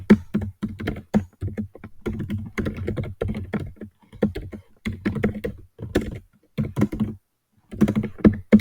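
Rapid typing of code on a computer keyboard, close and loud, in bursts of clattering keystrokes broken by brief pauses, with no talking.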